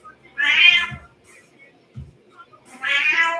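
A cat meows loudly and close by, twice, with a short pause between the cries, in a room during a stretching and balance session. A faint low thump falls between the meows.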